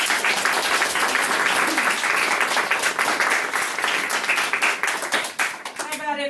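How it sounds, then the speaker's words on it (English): A crowd at a school graduation or moving-up ceremony breaks into another round of applause, brisk close clapping throughout with scattered voices underneath, thinning slightly toward the end. "let's give another round of applause"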